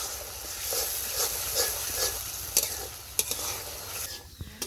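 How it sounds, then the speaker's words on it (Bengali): Spice paste of garlic, ground cumin, chili powder, turmeric, coriander and salt sautéing in a pan for a small-fish curry, a soft continuous sizzle with a few sharp spatula knocks near the end, close and alone. "মশলাটাকে খুব ভালোভাবে কষিয়ে নিব।"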